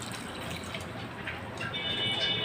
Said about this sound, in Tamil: அதுக்கு வந்து 2 கிளாஸ் தண்ணி ஊற்ற போகிறேன்.